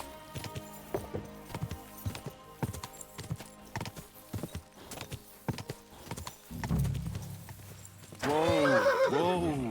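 Horse in the medieval role-playing video game Kingdom Come: Deliverance 2: rhythmic hoof clip-clops lead into a loud, drawn-out neigh and whinny near the end, with no talk over it.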